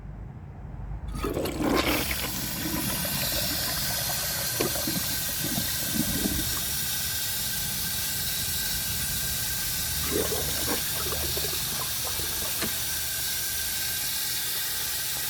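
A 1998 Eljer Patriot toilet flushes with a grocery bag in the bowl. A sudden loud rush of water starts near the mic, then settles into a steady hissing refill lasting over ten seconds, with small clunks along the way.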